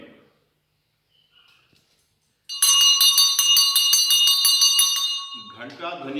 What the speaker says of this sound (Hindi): घंटा ध्वनि का भी अपना बड़ा महत्व है।